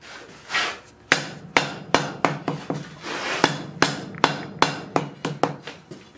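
Rounding hammer striking hot metal on an anvil while forging a hand, a run of about a dozen sharp, ringing blows at an uneven steady pace, loud and close.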